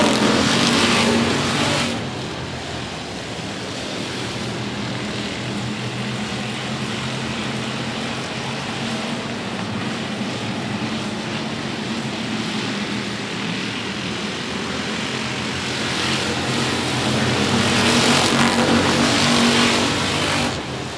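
A field of race cars roars around an oval speedway during a regular race program, a loud continuous engine drone that swells as cars pass close at the start and again toward the end.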